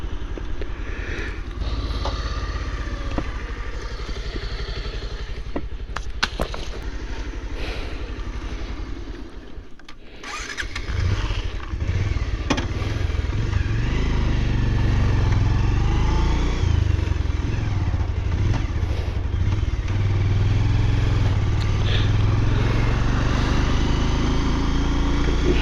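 A motorcycle engine runs steadily along a rough construction road on the Butwal–Narayanghat road project, a continuous low drone that dips briefly, then grows louder and fuller as the bike pulls away.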